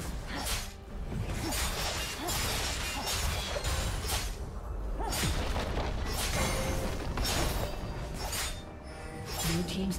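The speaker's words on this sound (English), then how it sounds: "Blue team's turret has been destroyed." League of Legends match audio with continuous whooshes, booms and crashing impacts as a turret is destroyed, dense layered game effects with brief bursts throughout and no clear speech.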